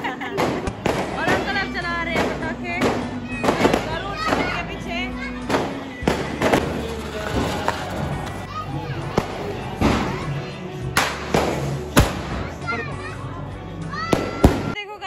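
Diwali firecrackers and fireworks burst again and again at a home celebration, sharp bangs and thumps close by, with children and other voices talking throughout.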